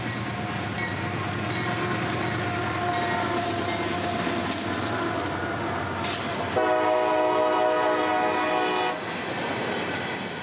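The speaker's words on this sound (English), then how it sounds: "This is that B339, starting their day with an empty shuttle of open wet rock hoppers" A CSX freight train rolls past hauling empty open rock hopper cars, a loud, close rumble of wheels and rattling steel, with a steady tone later sounding over the passing consist.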